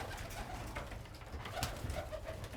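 Racing pigeons coo softly inside their loft, low throaty calls repeating under a faint ambient hum with no speech.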